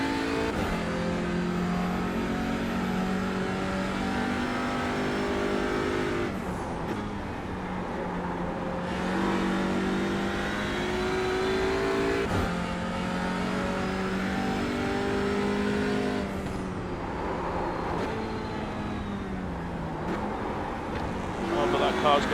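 TCR touring cars racing at Imola in iRacing: a near engine rises and falls through repeated upshifts, with other cars droning nearby and a voice talking over the engines.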